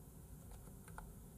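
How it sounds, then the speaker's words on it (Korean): A wireless computer keyboard with a dying battery, a few light, quiet keystrokes tapped irregularly over a faint room hum, with no voices. "무선 키보드 이게 안 좋아."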